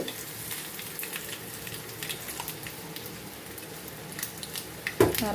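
Lentils, chillies and curry leaves temper in hot oil for curd rice, with a close, crackly sizzle and popping spatter running steadily, then a sharper burst of sputtering near the end.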